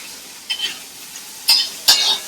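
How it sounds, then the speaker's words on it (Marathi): Chopped onion frying in a pan for zunka, a quiet sizzle broken by three short bursts of stirring and scraping against the pan. "तर पहिला कांदा टाकायचा. तो चांगला फ्राय करून घ्यायचा."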